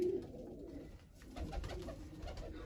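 A female pigeon's soft, low cooing comes in faint, brief bursts against a quiet background, recorded close by among kept pigeons.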